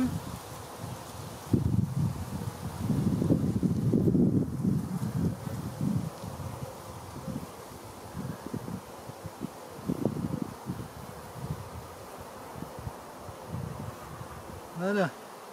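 Honey bees buzzing around an open beehive during a hive inspection, a dense close hum that swells and fades, with rustling handling noise and a brief bit of wind.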